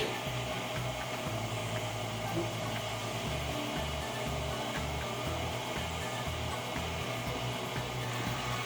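A food processor runs steadily as it mixes cookie dough to a crumbly texture, its motor drone loud and continuous with the pitch pulsing as the dough churns, and no talk.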